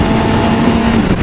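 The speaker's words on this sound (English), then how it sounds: "I love the sound of this bike" Steady, loud engine drone from a motorcycle of about 93 horsepower, a sustained tone holding level for just over a second with no talk.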